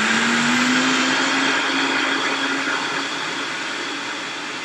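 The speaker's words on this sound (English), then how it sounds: "The thing about the Vitamix, it actually reduces the nut to a paste to milk very, very quickly." A Vitamix blender runs at high speed, blending nuts and water into milk with a loud, steady whirring roar and a droning motor tone, close by and gradually easing slightly in volume.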